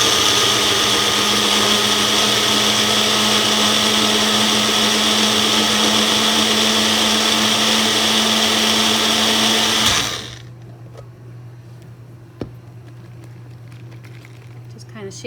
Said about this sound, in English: now I'm going to put it on the magic bullet